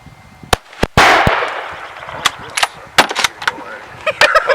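Outdoor shooting of tannerite targets: a sharp rifle crack followed by a loud blast with a long rumbling decay, then several more scattered gunshots and pops, some near and some distant, with faint voices.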